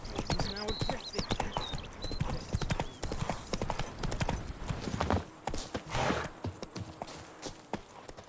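Geralt's horse Roach from The Witcher 3 galloping, a fast steady clip-clop of hooves close up across the whole stretch, with game voices and other sounds layered over it.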